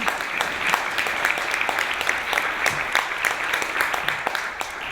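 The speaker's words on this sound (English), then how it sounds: "let me first encourage some clapping to our panel" An audience at a disability and business conference claps for a panel, a steady dense applause with distinct individual claps, sustained evenly throughout at moderate volume without speech.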